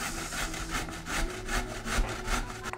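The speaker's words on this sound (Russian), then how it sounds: "Натираем на крупной терке, трется он очень легко" Young, tender zucchini is rubbed across the coarse side of a hand grater in quick regular strokes, a close rasping scrape repeating about twice a second.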